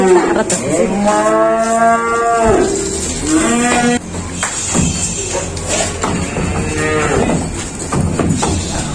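Limousin cattle moo loudly and close at a busy livestock market, with two long, drawn-out calls over a constant background of crowd and barn noise.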